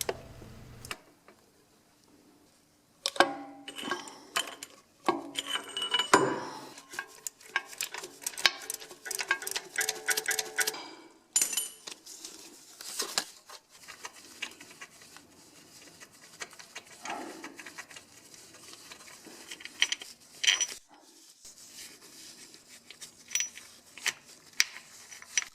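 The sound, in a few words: socket wrench with pipe extension loosening 15mm starter bolt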